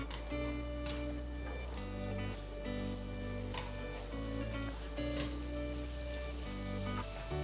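Mini steak frying in butter in a pan, a steady close sizzle with crackling spits running throughout, alone with no talk.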